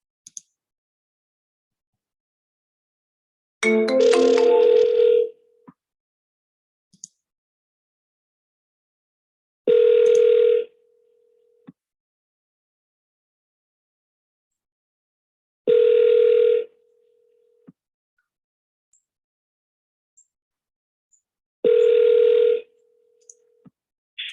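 Telephone ringback tone while calling a number: four evenly spaced ring bursts about six seconds apart, each lasting roughly two seconds, with silence between and a short click before the first.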